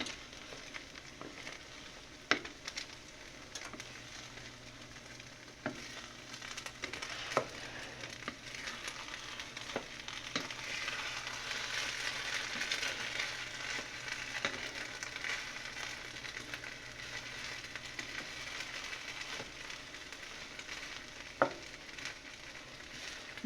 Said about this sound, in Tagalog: Hindi ito masyadong mahirap haluin, hindi kagaya ng malagkit.